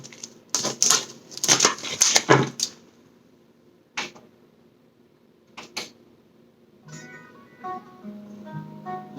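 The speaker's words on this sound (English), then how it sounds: "I'm going to just shuffle these cards, which is my own deck" A personal tarot deck being shuffled, bursts of riffling card clatter followed by a few sharp taps, then music begins softly.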